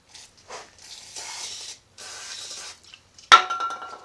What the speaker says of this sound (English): take some brake clean